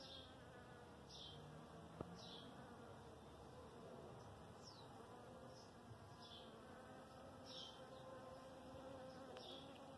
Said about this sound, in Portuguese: Tá cheinho de abelha.